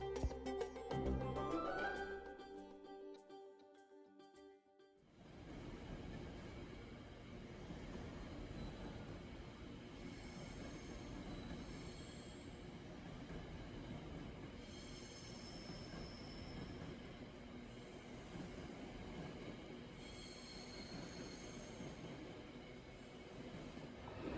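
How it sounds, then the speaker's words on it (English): A train rolls into a station in England with a steady mechanical rumble and high metallic squeals from the wheels, after a brief tonal sweep at the start. "And then my train pulled up."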